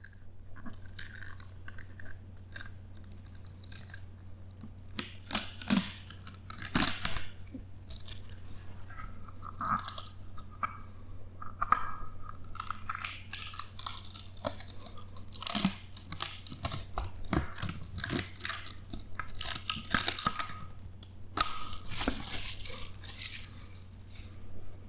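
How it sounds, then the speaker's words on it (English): Protective plastic film is peeled from small transparent digital scale trays, producing close, crinkly tearing and rustling in irregular bursts over a low steady hum, with no talking. "Let's peel the plastic from these trays."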